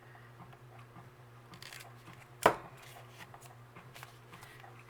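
Scissors trimming the edge of paper while crafting a shabby chic Victorian tag with a floating pocket: one sharp, close snip over a quiet background hum, with no talking.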